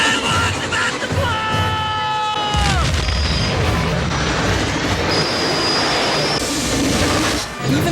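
Steam locomotive crashing and exploding in a Back to the Future film scene: loud continuous roaring rumble with high metallic squeals and whistle-like tones, then a dense booming crash sustained throughout.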